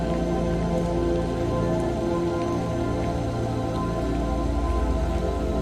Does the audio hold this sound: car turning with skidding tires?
no